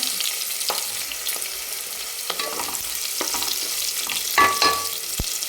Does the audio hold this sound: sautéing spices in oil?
yes